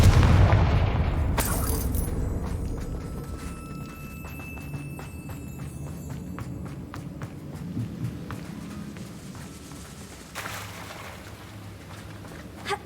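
A Confringo blast spell from Hogwarts Legacy goes off, a heavy booming burst that fades into a long rumbling decay, with a later smaller thump, inside the video game.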